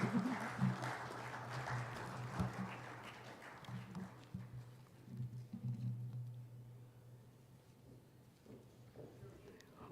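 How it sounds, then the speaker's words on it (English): Audience applause at a book launch event in Pune, clapping loudest in the first few seconds and then fading under ongoing hall noise and a low steady hum. "Can we give them a round of applause if they come on stage?"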